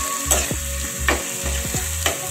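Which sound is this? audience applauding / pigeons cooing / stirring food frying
stirring food frying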